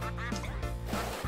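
Cartoonish duck quacks from the Nickelodeon All-Star Brawl fighting game, a quick burst of nasal squawks ringing over a layered electronic game soundtrack.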